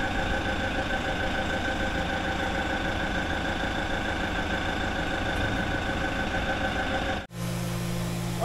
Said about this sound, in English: parts washer's doing its thing